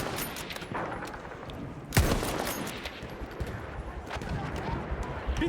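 Gunfire in the video game Battlefield 1: a loud rifle shot stands out, followed by scattered distant shots and rattling fire, with a player talking quietly underneath.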